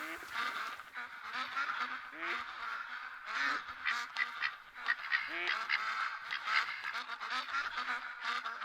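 A flock of mallard ducks in theHunter: Call of the Wild calls continuously. Many overlapping quacks and honks form a dense, busy chorus that carries from fairly close for the whole stretch.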